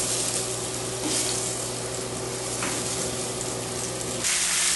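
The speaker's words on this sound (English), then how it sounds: "A little bit of oil in your piping hot pan, and in it goes." Food sizzles steadily in a little oil in a piping hot pan as it browns, a constant bright hiss with small crackles and no talking.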